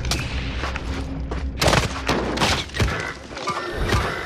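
Gunfire in a sniping video game, with a dense exchange of cracking shots and booming impacts, some bursts overlapping, loud and continuous over a rumbling background, no clear speech.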